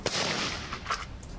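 Gunfire from civilians practising with combat weapons at a shooting range in Zaporizhzhia, heard as a few sharp reports, one loud crack near the start and fainter shots later, over a steady noisy background.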